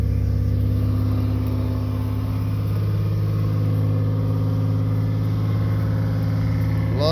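A 1989 Chevy Celebrity with 205,131 miles runs steadily just after a cold start, its engine holding a loud, even drone with a low exhaust rumble throughout and a faint slight rise in revs.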